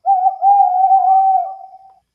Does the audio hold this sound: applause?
no